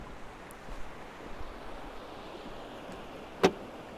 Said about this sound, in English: Time to check out what's underneath the hood, and you have a hidden lever and you press it